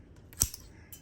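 Pruning shears snip a coast live oak bonsai branch in one sharp, close cut, followed by a faint softer click.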